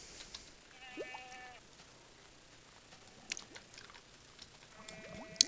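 Goats bleating in the Minecraft video game on a mountain, two or three short wavering bleats spaced apart over faint background noise, with brief clicks and game sounds between.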